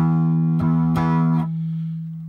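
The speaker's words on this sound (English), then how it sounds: "We just have distortion." A heavily distorted electric guitar run through an Empress ZOIA multi-effects pedal strikes three quick chords in succession, then lets the fuzzy, buzzing tone ring on as it slowly fades.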